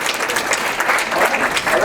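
Audience at a university president's town hall claps for the students, a steady, fairly loud wash of hand claps from a crowded room filling the whole stretch.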